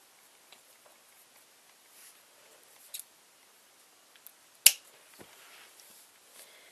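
Scissors close in a single crisp snip, cutting a craft piece for a popsicle-stick picture frame. The snip is near and sharp against an otherwise quiet room with a few faint handling clicks.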